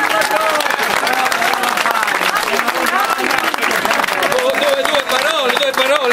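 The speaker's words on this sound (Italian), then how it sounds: "Un grosso applauso al nuovo sindaco!" A crowd at a town ecology and volunteer day in Guardavalle applauds a new mayor. Loud, sustained clapping mixes with voices and cheering throughout, with no break.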